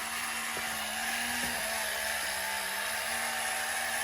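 A battery-operated vintage 1967 Gerry Anderson Project Sword Moon Prospector toy moving and spinning, a steady whirring motor hum with a few small knocks as it bumps into objects.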